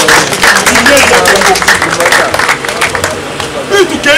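A crowd claps and cheers loudly, a rough mass of applause mixed with shouting voices and babble, rising and falling slightly but staying close and full throughout.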